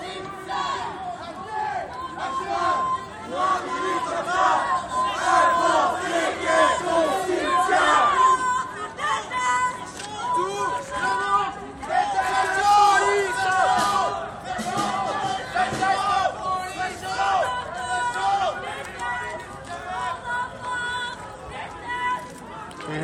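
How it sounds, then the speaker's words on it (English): A protest crowd at an anti-austerity demonstration shouts angry anti-police slogans, with loud, surging chants and yells rising and falling in waves over a dense babble of voices. "There were some angry shouts, anti-police slogans, but nothing beyond that."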